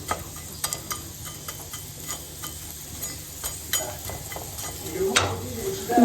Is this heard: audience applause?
no